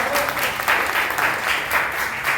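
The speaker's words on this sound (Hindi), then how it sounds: "तो एक बार कंपनी के जोरदार तालियां बजा सकते हैं हम लोग।" Loud applause from an audience at a company presentation, a dense steady wash of clapping with no voices over it.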